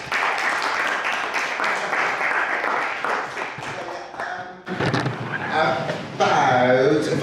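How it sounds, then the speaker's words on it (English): An audience at an industry talk on putting on events breaks into steady applause that carries through, with speech and other room noise coming up near the end. "So round of applause for Wes, please."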